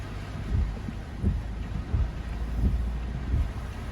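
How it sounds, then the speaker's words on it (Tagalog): Storm wind and heavy rain from a typhoon in the Philippines buffeting a house, a dense low roar with rumbling gusts that swell every second or so, steady throughout with no voices. "binayo na tayo ng ulan. Bagyo na ito mga kalingap."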